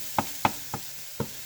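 Taco-seasoned ground beef being broken up in a pan with a utensil: four sharp, close scraping knocks at an uneven pace over a faint background hiss, with no voices.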